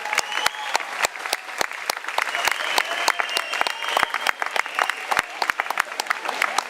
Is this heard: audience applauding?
yes